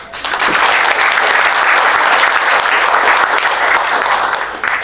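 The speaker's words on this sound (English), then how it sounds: "Please give them a big clap" Sustained, dense applause from an evening audience for the ACA New South Wales staff, a loud even wash of many hands clapping that holds steady and then tapers slightly at the end.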